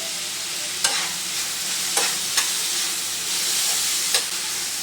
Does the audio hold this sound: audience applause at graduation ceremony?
no